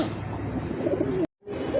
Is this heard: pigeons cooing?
yes